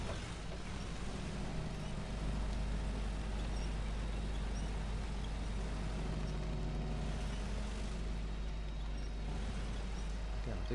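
Heavy truck engine in the off-road driving game SnowRunner, a steady low drone rumbling continuously under other game noise throughout.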